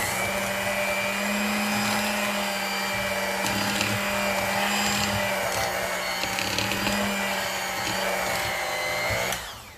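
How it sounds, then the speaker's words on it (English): An electric blender whirs steadily as a cup of flour is mixed into a full bowl, a loud continuous motor drone with slight load changes, no talking. "1 cup of flour. I'm gonna blend that in"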